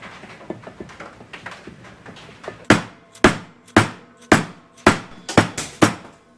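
Hard metallic hammer blows strike a cast iron case repeatedly, starting as lighter taps then becoming loud, sharp hits in a steady rhythm.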